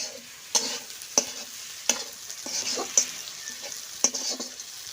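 Fish frying in a pan (kadai) in a village kitchen, a soft continuous sizzle punctuated by regular sharp clacks of a spatula against the pan, roughly one each second.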